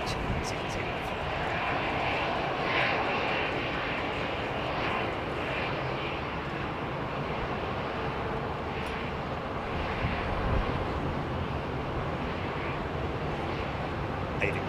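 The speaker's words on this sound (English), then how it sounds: "Look at this lovely little aeroplane, folks." A fixed-wing airplane engine at London Heathrow Airport, a broad steady roar running continuously throughout at a fairly even loudness, with people talking over it.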